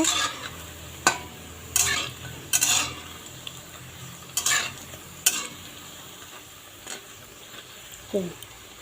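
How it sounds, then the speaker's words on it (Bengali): Lentil fritters (bora) fry slowly in oil, a soft steady sizzle broken by several sharp clinks and scrapes of a utensil turning them in the pan. "আমার বড়াগুলো উল্টিয়ে পাল্টিয়ে এই দেখো আস্তে আস্তে করে ভেজে নিচ্ছি"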